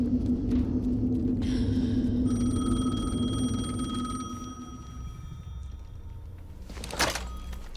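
A telephone rings in the video game Alan Wake 2, a bright, repeating electronic trill layered over a low, heavy rumble that fades midway, followed by a short thud near the end.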